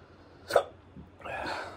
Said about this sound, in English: Hiccups, yeah. Immediate hiccups.